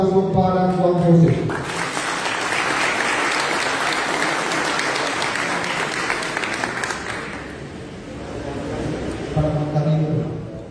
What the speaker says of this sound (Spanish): Un aplauso para Juan José